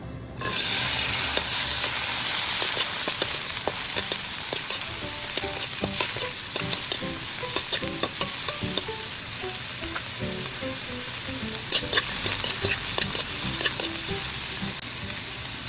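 Bitter gourd (ampalaya) frying in hot oil, a loud, dense sizzle that stays constant throughout, broken by frequent crackling pops and stirring clatter and never stopping.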